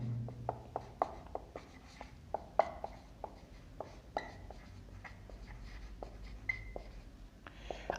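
A pen taps and scratches on paper while a physics problem is written out, giving irregular short strokes and clicks, quiet and close, with faint talk in the background.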